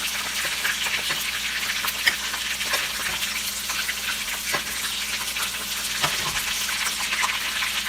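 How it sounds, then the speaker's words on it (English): Fish frying in hot oil: a steady, busy sizzle with crackling pops throughout, close and moderately loud, with no voices. "So the fish is all fried up."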